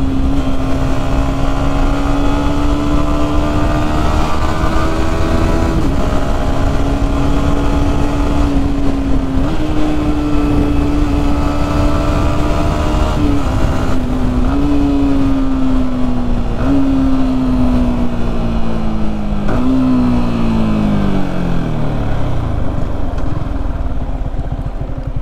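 Motorcycle engine held at steady revs, with the pitch stepping through repeated quick clutchless gear changes, each shift a brief dip before the drone resumes, ending in a falling downshift; loud and continuous, no talking.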